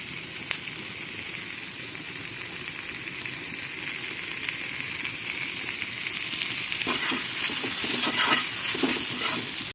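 Okra (bhindi) sizzles and hisses steadily while frying in a pan, with soft scraping stirs rising toward the end; no talking.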